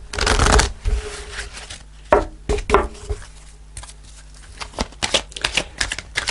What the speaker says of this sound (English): I'm going to pull a fairy card to finish off the reading.